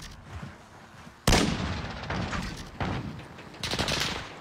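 Gunfire rings out in the Alcatraz mode of a shooter video game, a sudden loud burst followed by further rattling volleys and blasts in quick succession, dense and close with no pauses.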